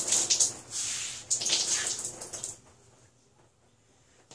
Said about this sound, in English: I'm just going to go through and wring all these out